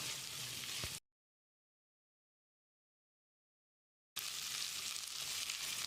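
Steady sizzling of potato pieces frying fills the opening second, cuts to total silence for about three seconds, then the sizzle returns and continues.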